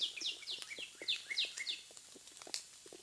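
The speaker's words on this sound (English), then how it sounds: "All the birds and everything making noises" Small songbirds chirp in repeated descending calls in damp, foggy woods with light rain, a steady run of bright tweets at moderate distance over soft ambient hiss.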